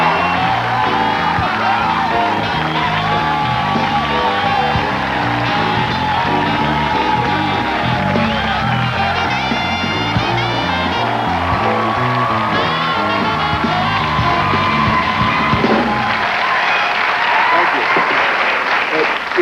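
A television talk-show studio audience applauds, whoops and cheers as a guest is welcomed on stage. The loud, sustained clapping runs under music and talk before dropping away near the end.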